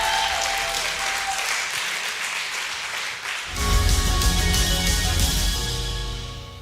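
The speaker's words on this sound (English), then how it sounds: "applause nonetheless for Lance and his efforts." Applause from an audience at a company awards broadcast: steady clapping at first, then a fuller, louder burst with added low rumble for the second half, heard alone.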